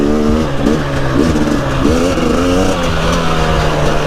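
A brand-new 2023 KTM 250 XCW dirt bike engine buzzes loudly and steadily, its pitch rising and falling several times as the rider shifts from third down to second gear.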